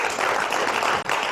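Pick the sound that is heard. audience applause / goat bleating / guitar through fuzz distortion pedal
audience applause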